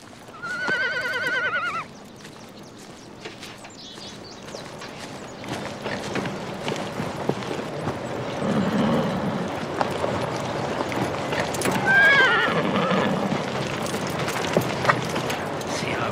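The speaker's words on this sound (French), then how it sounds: "C'est un beau cheval que tu montes." A horse gives a loud whinny up front, then hooves clatter and the gear shifts in the middle distance, with a second, fainter neigh later over a busy outdoor background.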